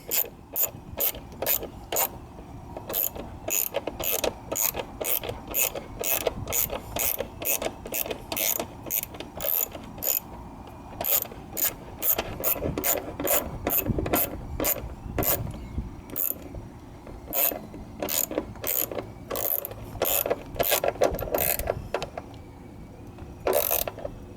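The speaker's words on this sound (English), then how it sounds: "Tighten up the last bolt." A ratchet wrench tightens a car door bolt with rapid, close clicking in long runs of pawl ticks, broken by short pauses as the handle swings back, loud and alone.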